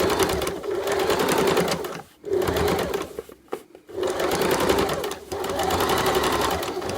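A sewing machine runs in fast, even bursts while understitching a facing, catching the seam allowance underneath; it pauses briefly twice, then starts up again, with no talk over it.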